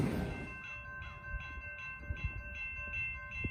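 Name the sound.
CSX freight train passing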